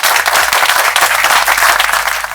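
Loud, dense applause from a crowd at a political campaign launch for a parliamentary candidate, steady clapping that fills the whole moment with no talk over it.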